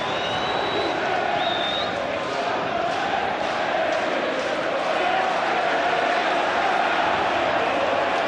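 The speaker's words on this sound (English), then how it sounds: "Really got this crowd going at Tynecastle." A large football crowd roars continuously at Tynecastle stadium during the Heart of Midlothian v Hibernian derby, a dense, loud, sustained wall of cheering and chanting with a commentator's voice faintly in the mix.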